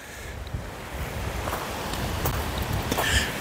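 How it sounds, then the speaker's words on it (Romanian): Wind gusts outdoors in cold Canadian weather, a steady broadband rush with low rumbling buffets against the microphone throughout, fairly loud and continuous. "Ok, bate vântul, dar n-aș putea spune că e rece"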